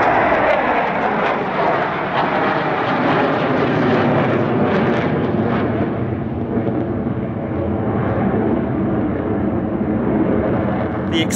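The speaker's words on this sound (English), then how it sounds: "These Sukhoi fighters are undeniably extremely manoeuvrable in pitch," Sukhoi fighter jets fly a multi-ship aerobatic display at an airshow, their engines a loud, continuous roar that swells and fades slightly as the aircraft manoeuvre overhead.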